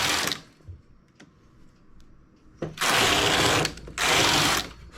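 Knitting machine carriage sweeping across four rows while making a 3x2 rib border, a quiet mechanical clicking at first, then two loud, harsh rattling passes, each about a second long, close up.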